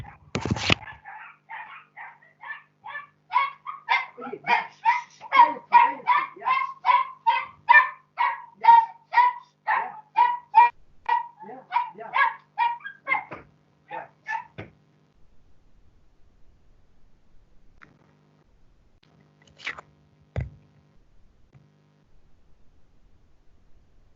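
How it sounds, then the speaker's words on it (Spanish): Pet dogs bark in a long rapid volley, a string of dozens of sharp close barks lasting about fifteen seconds before dropping to near silence with a couple of faint clicks. "mis perritas se pusieron a ladrar"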